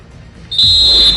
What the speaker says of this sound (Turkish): Ve Stamford Bridge'te ilk devrenin son düdüğü geliyor.